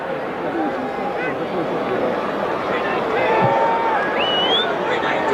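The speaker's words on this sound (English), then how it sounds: "Very enthusiastic crowd tonight, and that is an understatement, I believe." Stadium crowd at a 1983 USFL football game between the Michigan Panthers and Birmingham Stallions, a dense roaring babble of cheering fans that swells slightly toward the end, with whistles and shouts poking through.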